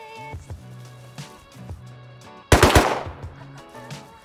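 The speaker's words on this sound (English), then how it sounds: "Warning shots" Loud burst of video game gunfire, warning shots in a raid: a rapid cluster of close, sharp shots around the middle of the clip, with quieter game sounds and scattered thumps before and after.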